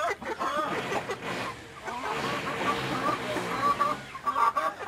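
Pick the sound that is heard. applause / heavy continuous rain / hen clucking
hen clucking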